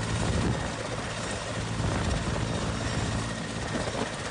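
A rescue helicopter flying over flood-stricken Lahaul in Himachal Pradesh, its rotor drone loud, steady and close throughout, with no talk.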